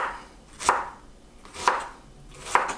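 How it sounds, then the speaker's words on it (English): A knife chops onion on a board while beef suqaar is prepared: three sharp, close chops, evenly spaced about a second apart, with no talking. "depends how much onion you want and how you want to cut it"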